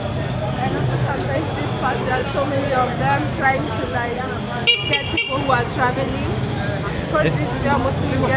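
Bus horns toot repeatedly across a busy Nairobi bus station, loud and close over constant traffic rumble and a murmur of crowd chatter, with a cluster of short honks near the middle.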